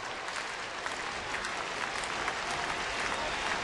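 A baseball crowd at a Toronto stadium cheers and claps in a steady, dense roar that holds for the full stretch, broad and enveloping with no single voice standing out, late in the 2009 season against Seattle.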